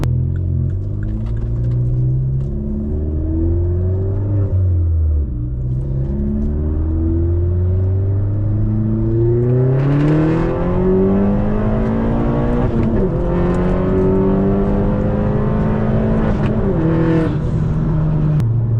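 A loud Vauxhall Corsa VXR engine revs up through several gears on Michelin PS5 tyres, pitch climbing then dropping at each shift, a continuous close roar with no talk.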